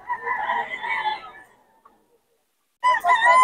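A bull stag rooster crows nearby in a drawn-out call that fades out, then after a short pause a second loud crow begins.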